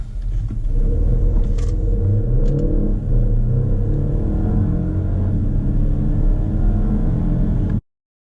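Mercedes E300e plug-in hybrid sedan accelerating hard from standstill to about 100 km/h, a steady close roar and rumble of the drivetrain and road that builds continuously for nearly eight seconds before cutting off abruptly.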